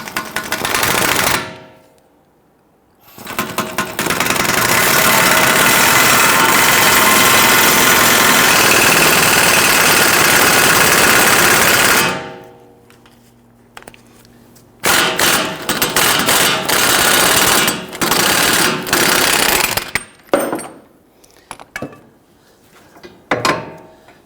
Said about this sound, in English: we're going to use our impact gun to go ahead and use this cup and push that ball joint down into the knuckle